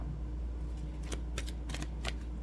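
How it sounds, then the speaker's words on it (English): A deck of Energy Oracle cards is shuffled by hand, giving several quick, close papery riffles and flicks in short bursts over a low steady background hum. "First one we're going to pull is the Energy Oracle cards."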